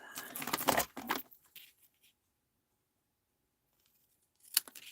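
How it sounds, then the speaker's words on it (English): Scissors cut through a strip of card in a few quick snips up close, followed by near silence and then a short rustle of card at the end. "I'm going to cut that"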